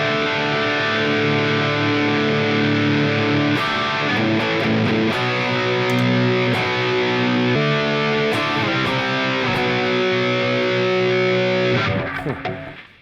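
Electric guitar driven through an OCD overdrive pedal into a Mesa Mark IV amp model, playing sustained gritty distorted chords and riffs that fill the mix loudly and continuously before cutting off at the end.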